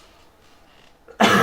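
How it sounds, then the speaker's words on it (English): One sudden, loud cough from a man with a lingering cough, bursting out after a near-silent moment and cut off right at the end. "Still battling my cough."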